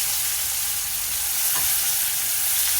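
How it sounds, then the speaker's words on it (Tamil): Chopped onion sautéing in oil in a pan, a steady soft sizzle and frying hiss running evenly throughout, with a faint stir or scrape in the middle. "ஆனியன் நல்லா சாட் ஆகட்டும்."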